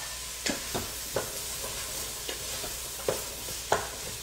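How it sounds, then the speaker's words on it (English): Onions and parsnips sizzle and fry in a pan, a steady close hiss broken by occasional sharp stirring scrapes, with no talking. "I have my onions in now. I'm going to add in my parsnips."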